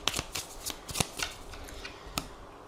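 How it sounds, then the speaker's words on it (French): Lenormand cards being shuffled by hand before a nine-card spread: a run of crisp riffling bursts and soft slaps, close and fairly quiet, with no talk. "on va faire un tirage en 9 cartes avec le Lenormand pour voir un petit peu ce qui va se passer"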